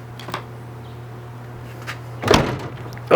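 A dented door on a Chevy Squarebody truck is pushed shut, giving a single fairly loud thunk near the end, after a few faint knocks over a steady low hum.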